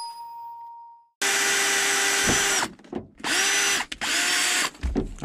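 Loud whine of a power drill cutting a hole for a homemade drift handbrake in a car, running in three sustained bursts separated by short stops, close and without talk.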